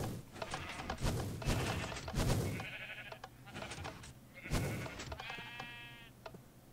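Several Minecraft sheep bleat repeatedly in the video game, their wavering, nasal cries overlapping with thumps and clicks of block actions, fairly loud and close with no talking.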